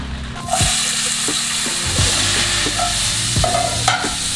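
Peppers frying in oil in a pan give a steady, close sizzle, with occasional scrapes and taps of a utensil stirring them.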